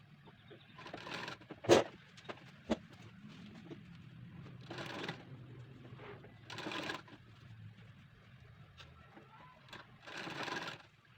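A sewing machine stitches a frill onto a fabric cloth, running in several short, whirring bursts a few seconds apart. It is moderately close against a quiet background with faint incidental noises.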